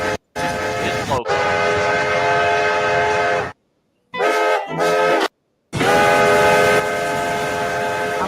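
A steam-style train whistle, the Oceanic Express, sounds loud and close in several long sustained blasts broken by short silences, with a steady rumbling rail background.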